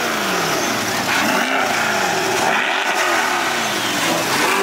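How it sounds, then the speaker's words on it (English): A sports car engine revs hard and loud up close, its roaring pitch climbing and falling in repeated surges with a constant growl underneath. "This is my first time ever revving an exotic car."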